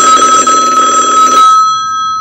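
An old telephone from an Italian film rings loudly with a harsh electric bell trill lasting over a second, then a thin lingering tone fades out.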